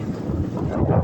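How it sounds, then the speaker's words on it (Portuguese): Wind buffets a microphone as a cyclist pedals into a headwind on a highway, a dense, rumbling roar that stays loud and steady throughout. "O vento tá contra, bicho!"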